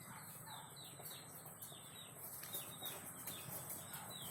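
Native chickens cluck softly at a farm on an island, with pigeons also kept there; short repeated calls sound faint and somewhat distant over a quiet outdoor background.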